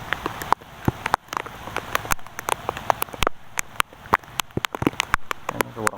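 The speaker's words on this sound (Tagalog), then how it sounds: "Sobrang ulan." Heavy rain falls on nearby surfaces, giving a steady patter with many sharp, irregular drop impacts, close and fairly loud, with no talk heard.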